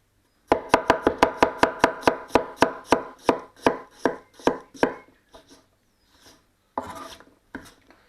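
A Honyaki 200mm gyuto kitchen knife chops through carrot on a board in a quick, steady run of about fifteen crisp, close cuts, then slows to a few scattered strikes.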